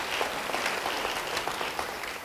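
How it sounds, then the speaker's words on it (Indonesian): A church congregation applauds for about two seconds, a steady, dense wash of clapping hands filling the room at moderate volume with no voices above it. "Yang mau beri tepuk tangan yang baik bagi dia."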